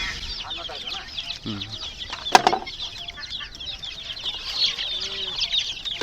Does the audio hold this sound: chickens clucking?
yes